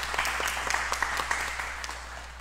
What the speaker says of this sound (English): I would like to ask for a round of applause.